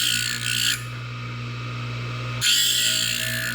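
A grinder works a stainless steel piston ring, a harsh, loud rasping whine that briefly eases to a lower hum in the middle before the bright grinding resumes, close up with no speech.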